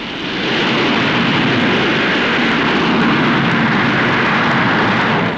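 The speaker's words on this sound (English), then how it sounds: "is a delta wing research machine powered by 5 Rolls-Royce jets." Delta wing research aircraft with five Rolls-Royce jets at the Farnborough air show, a loud, steady, broadband jet roar that swells in within the first half second and then holds constant with no talk over it.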